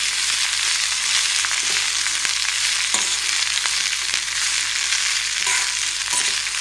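Long beans stir-fry in a pan with oil and a garlic tempering, giving a loud close sizzle, with scattered scraping clicks of stirring through it and no speech.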